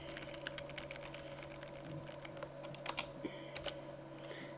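Keystrokes on a computer keyboard entering an nslookup command during a Zimbra server setup, a quiet run of soft clicks over a steady electrical hum, with a few louder taps near the end.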